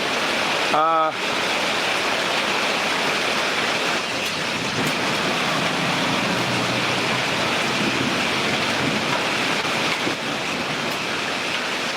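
Heavy rain pours down steadily during a stormy night in Sylhet, a loud, dense, even hiss. A brief voice cuts in near the start, and faint knocks come and go.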